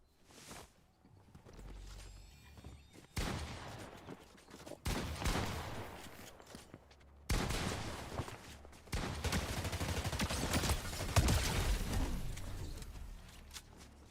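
SMG gunfire in the Fortnite video game comes as several rapid bursts of shots, loud and close, separated by short quieter gaps and ending in a long sustained stretch of fire.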